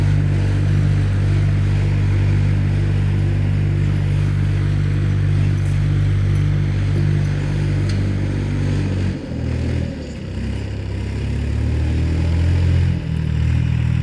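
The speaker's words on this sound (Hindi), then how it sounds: "और भाई ना तो कोई स्लिपेज ले रहा ट्रैक्टर" A Massey Ferguson 5245 tractor pulls an 8.8 harrow through an orchard, its diesel engine droning loud and steady at close range, with a brief dip and recovery in load near the end.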